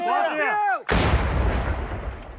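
A voice speaks briefly, then a single loud, sharp artillery blast booms out, followed by a rumbling decay and distant echoing tail.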